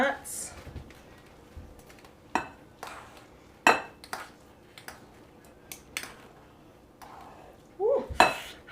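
Hot, very sticky rice is stirred in a large bowl, with scattered clinks and scrapes of a utensil against the bowl at uneven intervals, close and moderately loud, and brief talking.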